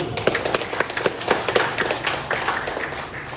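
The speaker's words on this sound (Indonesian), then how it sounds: "Tepuk tangan dulu." An audience at an installation ceremony claps in scattered, uneven bursts, fairly close and sharp, thinning out toward the end without talk over it.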